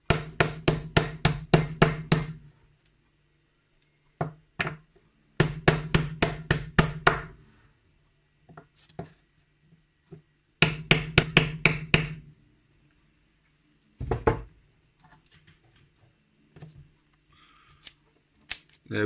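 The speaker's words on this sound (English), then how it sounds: "still working perfectly, even though it's had a good few taps of a hammer" Bursts of rapid metallic taps from a hammer striking a Master padlock, several quick clusters separated by short pauses, close and sharp.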